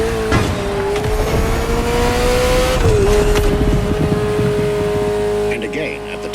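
Ferrari engine in The Crew Motorfest racing game, a loud sustained high-revving tone with a brief drop as it shifts gear, over rumbling road noise, fading near the end as a voice talks over it.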